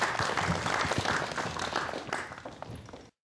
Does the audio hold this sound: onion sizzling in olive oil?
no